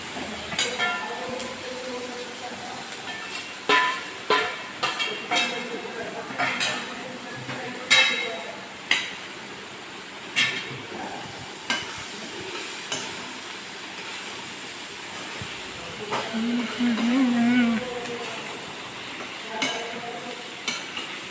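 Fenugreek seeds and mustard seeds crackle and sizzle in hot oil, with repeated sharp clinks of a spoon against a metal pan and a brief murmur of talk.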